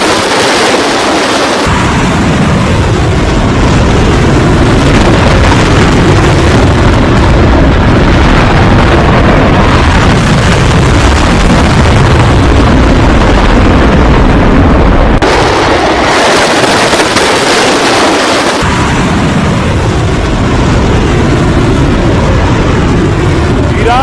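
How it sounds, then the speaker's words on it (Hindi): Ballistic missile blasts and impact in Jerusalem, a loud, continuous roar of rumbling booms and crackling bursts that fills the whole stretch, with brief lulls near the start and around the middle. "एक मिसाइल देखिए जेरूसलम में जाकर गिरी। ये तस्वीरें देख रहे हैं, मिसाइल हिट हुई है।"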